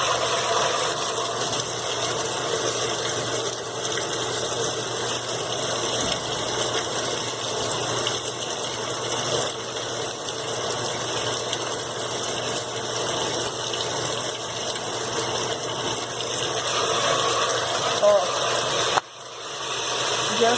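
A Brastemp BWQ 24 washing machine filling with water through the soap dispenser valve, a strong, steady rushing flow with a constant mechanical hum, loud and close for the whole stretch, briefly dipping near the end.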